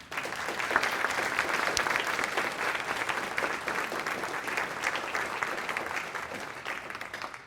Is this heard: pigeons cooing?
no